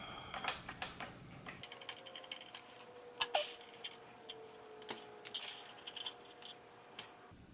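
Hand tools loosen intake bolts on a 1967 Evinrude 3HP outboard motor, giving light metallic clicks, ratcheting and small clinks of bolts close up, irregular and fairly quiet against a steady low hum.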